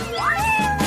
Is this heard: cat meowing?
yes